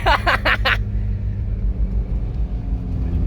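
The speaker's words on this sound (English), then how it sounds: "we traded the international truck for this Hilux, and I'm going to admit it sounds pretty tits, doesn't it, Sammy?" A Toyota Hilux engine runs while driving, a steady low rumbling drone heard from inside the cab, with brief noisy bursts at the start before the even motor hum carries on alone.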